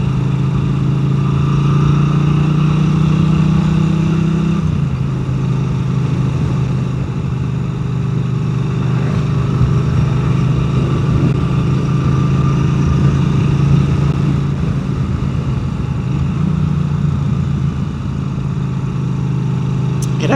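Norton 961SP Commando motorcycle being ridden, a steady loud engine drone with a deep low rumble holding throughout and a brief dip in pitch near the middle, as if shifting gear, close to the microphone.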